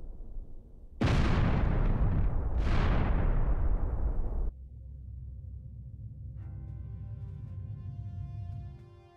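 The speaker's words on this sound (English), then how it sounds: "Incoming fire from the unknown vessel." Two heavy explosive blasts of incoming fire from an unknown enemy vessel in the space video game Star Ocean: The Last Hope, each a loud booming burst decaying into rumble, followed by a low sustained drone with a rising tonal hum.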